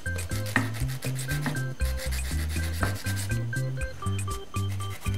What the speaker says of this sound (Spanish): Lijamos la punta.